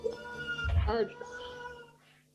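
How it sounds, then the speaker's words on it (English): A cat gives an unhappy, drawn-out meow, one close and fairly loud wavering cry that fades at the end. "Your cat does not like what I did."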